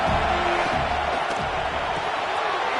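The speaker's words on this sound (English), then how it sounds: "Third down, and the crowd really getting into it." A football stadium crowd roars and cheers on a third down in a Trojans game, a dense, sustained wash of distant voices that stays steady throughout.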